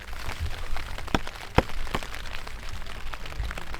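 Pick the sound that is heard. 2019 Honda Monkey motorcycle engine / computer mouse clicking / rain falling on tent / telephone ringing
rain falling on tent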